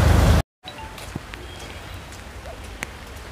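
Steady rain pours over a waterlogged street, a dense even hiss with scattered drop and splash transients after a brief cut near the start.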